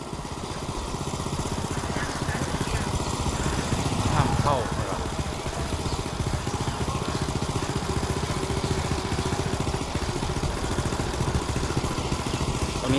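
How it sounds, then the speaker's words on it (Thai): A motorboat's engine chugs steadily and fairly close with a clattering mid-pitched drone while moving through a flooded village in Thailand, and someone talks over it throughout. "เรือสัญจรแล้ว"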